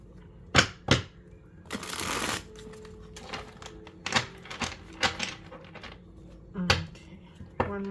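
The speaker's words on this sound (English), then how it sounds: "one more shuffle and I'll just cut the cards" Tarot cards are shuffled by hand in a series of sharp riffles and snaps, with a longer burst of brushing card noise near the start, close and fairly quiet with no talking.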